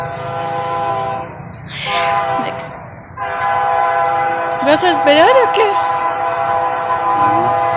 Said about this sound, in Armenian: գնացքը գալիս է։